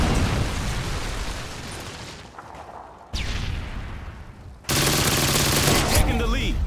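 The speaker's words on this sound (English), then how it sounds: "Predator missile incoming." Predator missile strike in the video game Call of Duty Modern Warfare 2, with loud blasts and gunfire, sudden cuts to near silence, then a renewed burst of explosive noise.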